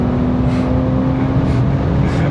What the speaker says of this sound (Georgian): ასე მარტივად რომ მანქანა ჩქარდებოდეს